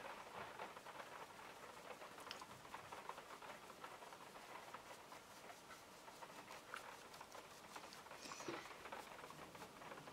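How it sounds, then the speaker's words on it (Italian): Steady rain falls outdoors, a dense continuous patter with scattered louder drops and a faint distant rumble, no voices. "sta piovendo, è arrivato il pioggione."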